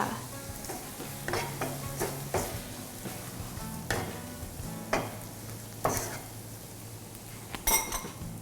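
A spatula stirs instant noodle seasoning into a hot sizzling pan, with repeated metallic scrapes and clinks against the pan at an irregular rhythm over a steady fry.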